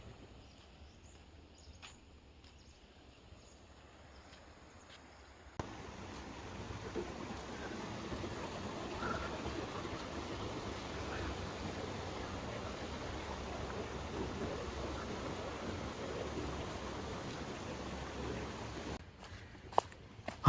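Hanumangundi waterfall pouring steadily outside the monsoon season, its reduced flow still making a dense, continuous broadband rush that starts abruptly and fills most of the stretch before cutting off near the end, with no talk.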